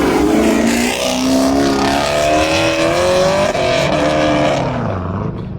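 Race car at an autocross event at Grissom AFB, its engine roaring close by as it drives through the timing lights, rising and falling revs across several gear changes before fading as it moves away.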